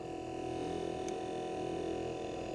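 A 3.4-inch 3D mini hologram fan hums softly with a steady, even drone and faint tonal whine, recorded up close with no other sounds.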